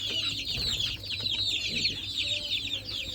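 Several native chickens cluck and murmur continuously close by, with busy overlapping calls over a low steady hum.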